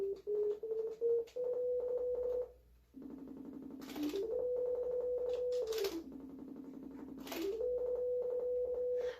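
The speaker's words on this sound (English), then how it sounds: "So you can play simple basic notes in the shape of a piano keyboard, so starting from C, going up the chromatic scale." A simple sine-wave synthesizer built in Python plays clean single tones, stepping through pitches in short held notes with a few brief clicks and gaps, quiet and free of voices.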